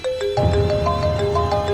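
A mobile phone ringtone plays a steady electronic melody of sustained tones, fairly loud and close, with no talking over it.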